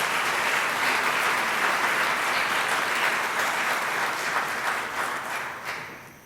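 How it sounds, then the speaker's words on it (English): Audience applauding steadily at an awards luncheon, a dense, even wash of many hands clapping close to the room that holds for several seconds before tapering off slightly at the end. "let's give them a round of applause."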